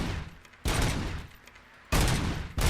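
Rapid automatic gunfire from a weapon in RoboCop: Rogue City comes in loud, sustained bursts, two long volleys and the start of a third, close and harsh, with brief quiet gaps between them.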